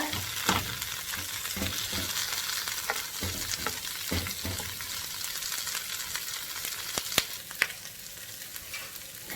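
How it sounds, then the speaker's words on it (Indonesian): Sliced red onions fry in a little oil in a pan, sizzling steadily with occasional stirring clicks and scrapes, fairly quiet and with no talking. "goreng pakai minyak sedikit sampai layu aja."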